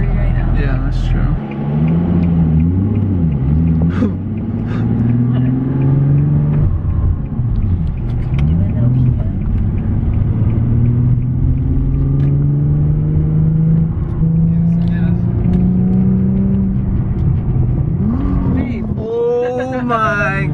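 A manual stick-shift Infiniti G37 drives along, its engine droning and rising in pitch through the gears with a dip at a shift, while people talk over the engine throughout.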